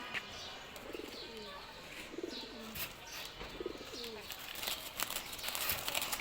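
Domestic pigeons, a newly paired cock and hen, coo softly in repeated low rolling calls at an even pace, set against a faint background hum with occasional light rustles and clicks.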